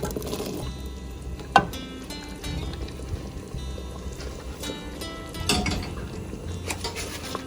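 Diced potatoes drop into a pot of thick clam chowder with soft splashes and a few clattering knocks against the pot, close by, among light handling sounds and no talking.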